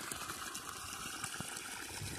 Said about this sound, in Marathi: एवढं पाणी आपल्या 5 HPच्या पंप मारतो आहे